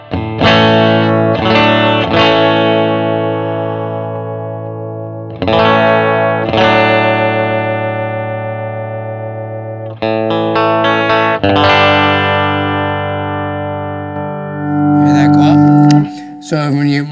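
Electric guitar through a vintage Fender amp with the bright switch engaged rings out a few loud strummed chords that sustain and slowly fade, each struck again after a pause, with a busier, brighter flurry of notes near the end.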